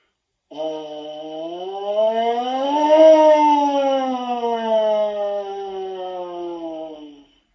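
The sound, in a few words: siren imitated on brass mouthpiece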